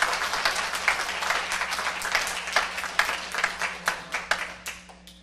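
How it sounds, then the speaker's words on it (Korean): A church congregation applauds to welcome back a returning deacon, a steady wash of many hands clapping for about five seconds with scattered louder claps, fairly close and without speech. "박수로 환영해 주시기 바랍니다."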